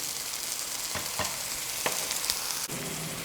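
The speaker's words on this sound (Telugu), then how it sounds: "హై ఫ్లేమ్లో పెట్టుకొని ఇలా ఫ్రై చేసుకోండి" Paneer frying on high flame for paneer 65, a steady bright sizzle with a few sharp spatula clicks against the pan, close and without voices.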